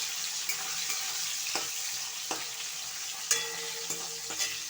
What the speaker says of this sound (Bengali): এতে টমেটোটা দিয়ে দিলাম। টমেটোটা একটু ভাজা হবে।